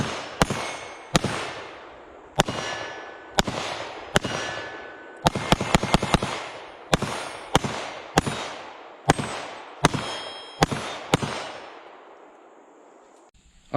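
A Keltec PR57 pistol fires Fiocchi rounds: about sixteen sharp, loud shots in an irregular string, some in quick pairs and bursts, each with a short ringing decay, and no talk.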